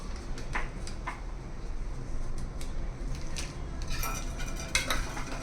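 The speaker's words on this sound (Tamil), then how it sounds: "எல்லாம் கலந்தாச்சு நல்லா கொதிக்கட்டும்" A spoon clinks and scrapes against a metal pot while stirring spiced biryani masala into a cooking mixture, with soft irregular metallic taps and a steady low background hum throughout.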